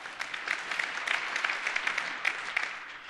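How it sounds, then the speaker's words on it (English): Keynote audience applause from a large crowd, a dense, even patter of clapping that holds steady for a few seconds at moderate loudness without voices. "We'll take applause for that."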